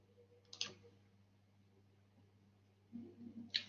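Computer mouse clicks, two sharp, quiet clicks about three seconds apart over a faint low hum, with a soft rustle before the second.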